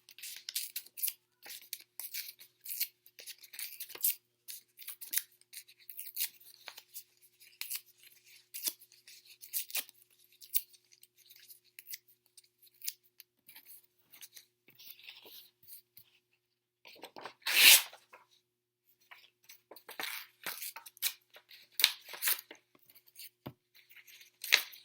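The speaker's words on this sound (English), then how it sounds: "you're going to rip a bunch of small little pieces." Sheets of paper are ripped by hand into small pieces for an Easter paper mosaic, producing close, crisp tearing bursts in irregular clusters with short quiet pauses and one longer rip near the end.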